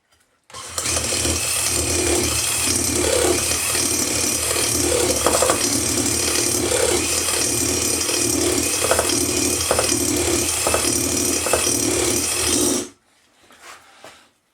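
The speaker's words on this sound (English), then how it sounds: "And then basically give it a little bit of a hone." A power tool drives honing stones inside the cylinder of a Yamaha SR125 engine, producing a loud, steady grinding whir that starts abruptly, runs for about twelve seconds and then cuts off.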